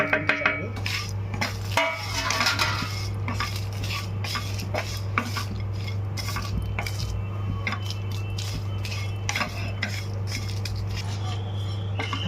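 Dry whole spices rattle and scrape in a pan as a utensil stirs them steadily, with clinking taps over a low steady hum.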